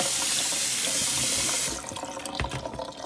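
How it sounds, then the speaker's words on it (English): Cold water from a kitchen tap runs over onions in a sink, a loud steady gush that softens partway through into uneven splashing and trickling. "just going to run some cold water over those"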